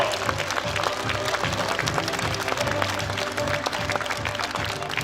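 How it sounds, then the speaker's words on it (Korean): Audience applause at a Daegu residents' committee and district heads workshop, steady dense clapping filling the room throughout, with faint background murmur. "여러분 따뜻한 박수로 환영해 주십시오"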